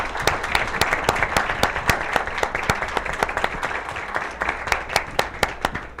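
Audience applause at a lecture event, a dense steady wash of many hands clapping with sharp individual claps popping through, sustained at even loudness for the whole stretch.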